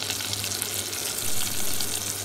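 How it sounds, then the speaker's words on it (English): Fish fries in hot oil in a village-style kitchen, giving a continuous close crackling sizzle with a low steady hum underneath. "I have already heat my oil and I'm just doing the frying"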